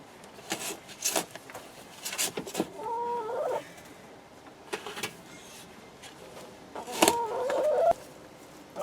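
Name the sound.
chickens clucking in chicken run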